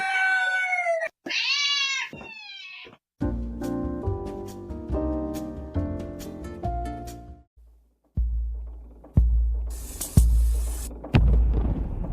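A cat meows and yowls in a few drawn-out, rising cries up close, followed by a run of tonal, sustained sounds and then several heavy thumps and a bright hissing burst.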